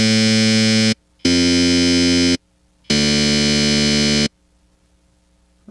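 A Reason Malstrom graintable synth set to play a single grain of its sample gives three loud, steady buzzing tones, each lasting about a second, with short silences between them.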